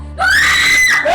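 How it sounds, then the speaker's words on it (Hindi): A woman screams once, a loud, high, sustained cry close to the microphone lasting under a second. "अभी चीख क्यों रही हो?"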